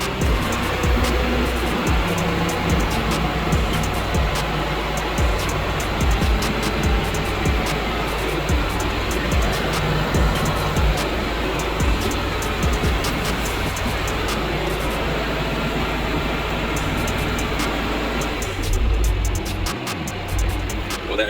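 A heavy diesel tractor engine idles steadily close by, a constant low rumble and drone filling the whole stretch with no voices.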